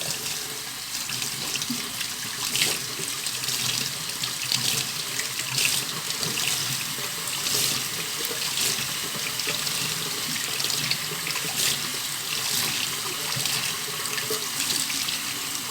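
Tap water runs steadily and fairly close into a tray of sprouted seeds being rinsed for goldfinch and canary breeding feed, an even splashing hiss with no voices.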